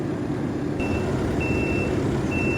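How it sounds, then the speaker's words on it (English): A vehicle backs slowly across a road toward a compressor, its reversing alarm sounding a few evenly spaced high beeps over a loud, steady engine rumble. "I'm going to try and back up steady in a nice curve across the road"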